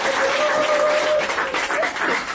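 A church congregation applauds, a loud, dense wash of clapping that stays steady for a couple of seconds with a faint sustained tone underneath.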